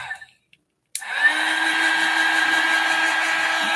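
A small handheld heat pen switches on after a moment of quiet and blows a steady, close whirring hiss while drying acrylic paint on a one-stroke painting.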